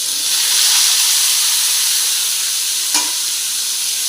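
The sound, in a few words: onions frying in a pan for dried fish thokku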